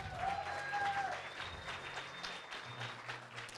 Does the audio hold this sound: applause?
yes